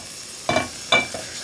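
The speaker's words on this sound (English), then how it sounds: "Remarkable how the little bead of water just is running around boiling." A bead of water hisses and sizzles on a hot stone-coated skillet in two or three short, sharp bursts against a quiet background.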